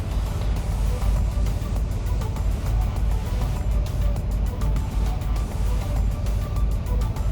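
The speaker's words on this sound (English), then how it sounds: "he's got no room to maneuver the truck the way he needs to get it to back up any farther" A truck maneuvering and pulling forward to straighten out, a steady loud low engine rumble that holds constant and close throughout, with faint clicking and rattling on top.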